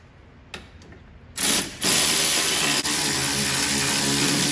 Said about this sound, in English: Let's run them down with the electric ratchet.